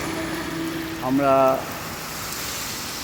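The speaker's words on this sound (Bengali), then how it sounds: "তুমুল বৃষ্টি হচ্ছে, যেতে পারছি না আমরা।" Heavy rain falls as a steady broadband hiss at the Odisha border near Sonakania, continuing under a brief spoken word.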